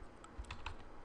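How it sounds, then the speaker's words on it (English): Quick keystrokes on a computer keyboard while entering a Google search, a short run of soft, close clicks in an otherwise quiet room. "I'm going to type in David G. Kirk."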